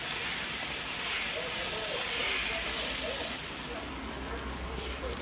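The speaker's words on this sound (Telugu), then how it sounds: "పెనం పెట్టుకొని పెనం కాలింది, దోశ వేసుకున్నాం." Millet dosa batter sizzles on a hot pan, a steady close hiss with crackling texture that thins slightly toward the end, with no voices.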